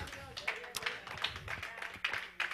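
Church congregation clapping during a sermon on prayer, a sparse irregular patter of hand claps from a few people, fairly quiet and close, with a murmur of voices underneath.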